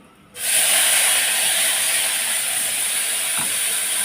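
Spice paste dropped into hot oil in a pan sets off a sudden loud sizzle that holds steady and close, with no talking.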